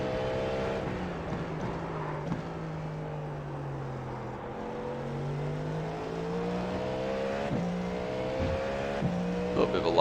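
A Cadillac V-Series.R prototype in an iRacing race at Daytona howls through steady engine tones that rise and fall, with brief tire lock-up chirps into a turn, and no voice in the clip.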